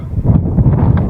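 Strong wind gusting across the Wagangan rock formation, a loud, steady roar buffeting the microphone for the whole moment with no one speaking.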